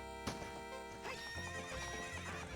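A horse neighs and whinnies in the video game Legend of Steve, with clip-clop hoofbeats as it races, set against game music and noise that runs steadily throughout.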